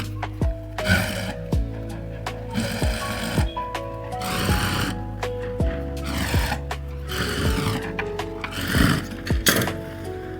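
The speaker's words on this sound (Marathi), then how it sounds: "आता आपण तो फोल्ड करणार, दाब शिलाई देणार किनारी साईडनी खालच्या।" A sewing machine runs short stitching bursts along the folded lower edge of a blouse sleeve, sewing a pressed hem seam. The motor whirs in stop-start runs with brief pauses between them, close and steady.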